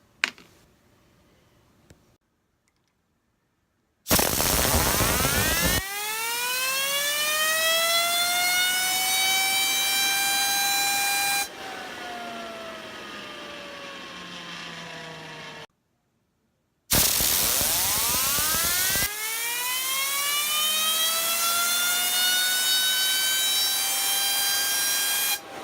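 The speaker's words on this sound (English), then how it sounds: "So let's test this to see how long it'll spin." An NTO Designs Ternion fidget spinner spins at length: two long loud whirring spins whose whine sweeps steadily down in pitch as they slow, separated by brief silences, close up with no talk.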